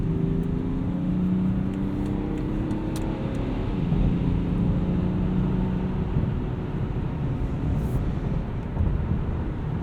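Steady engine and road drone from a 2017 BMW X5 xDrive35d diesel SUV held at high revs while driving, a continuous loud hum with no talking.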